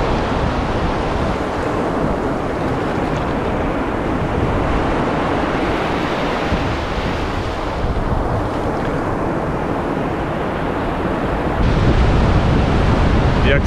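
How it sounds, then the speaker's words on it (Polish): Baltic Sea waves wash onto the wide beach at Sarpinowo, a continuous loud surf roar mixed with heavy wind buffeting the microphone, with no voices. "Jak Ci się podoba plaża w Sarpinowie?"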